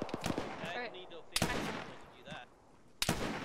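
Gunshots ring out in the Arma military game during a ShackTac squad mission, with a few sharp, loud cracks spaced apart while players talk over the radio between them.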